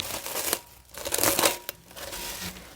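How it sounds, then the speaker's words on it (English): Close crinkling and crackling of cling film being stretched over a bowl of pizza dough, a few quick rustling bursts over less than three seconds with no talking. "so what I'm going to do is put some cling film on top of that"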